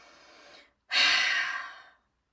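During a gentle yoga session, a close, audible breath flows out through the mouth, followed after a short pause by a deep, strong inhale that slowly tapers off.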